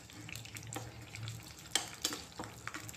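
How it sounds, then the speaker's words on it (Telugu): Spices and curry leaves tempering in hot oil for a coconut chana dal, giving a steady close sizzle with stirring scrapes and a couple of sharp spattering pops, no talking. "పోపు అయితే బాగా వేగనివ్వాలి."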